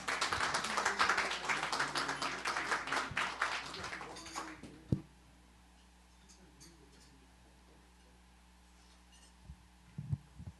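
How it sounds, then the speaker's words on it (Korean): Dense applause from a breakfast forum audience for about four seconds, welcoming a speaker, then it stops abruptly into near silence with a few faint knocks and shuffles. "장지영 박사님을 큰 박수로 모시도록 하겠습니다."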